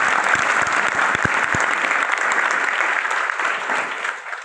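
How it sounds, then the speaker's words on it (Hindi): A large gathering at a political rally gives loud, dense applause for an arriving dignitary, a sustained roar of many hands with a few sharp individual claps early on, tapering off at the end. "जोरदार तालियों से।"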